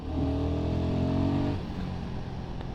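A Royal Enfield Guerrilla 450 motorcycle engine holds a steady, loud drone, then drops to a lower rumble as the revs fall away.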